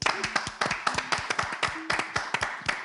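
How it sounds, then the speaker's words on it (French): A small group clapping to acclaim Nimo Tokilala's RFI Prix Découverte win: irregular, close hand claps over a few seconds, with no cheering. "Ça s'acclame."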